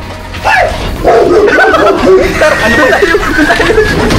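A dog barks in several short, close yips and woofs, mixed with chuckling laughter and voices nearby.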